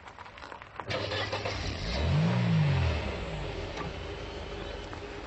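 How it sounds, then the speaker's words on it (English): A car engine starting as a sound effect: a cranking catch followed by a rising rev that swells and settles into a steady idle rumble, close and fairly loud over a faint background. "includes sound effects such as the start of a car engine and the atmospheric sounds of a bustling cafe"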